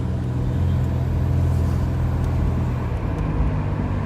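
A 1987 Buick Grand National drives at about 35 mph, its engine giving a steady, continuous low rumble close by with road noise and no voices.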